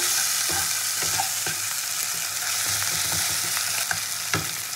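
Ginger-garlic paste, made from two garlic cloves and half an inch of ginger, fries with tomato and onion in a pan. It sizzles close and steadily, with occasional spoon scrapes from stirring and no talking.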